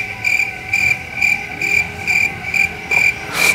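Crickets chirp in a steady, evenly spaced rhythm of about eight pulsed bursts, loud and close, with no talking.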